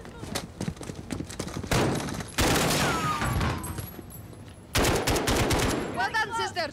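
Gunfire from a Call of Duty Modern Warfare mission crackles in sharp single shots and dense automatic bursts, with loud heavy stretches between quieter gaps and talking mixed in.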